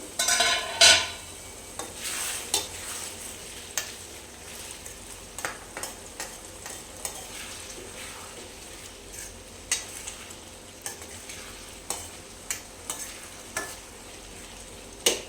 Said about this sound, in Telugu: టమాటాలు మధ్య మధ్యలో ఇలా కలుపుకుంటూ ఉండాలండి